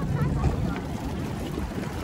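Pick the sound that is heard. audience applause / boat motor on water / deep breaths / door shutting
boat motor on water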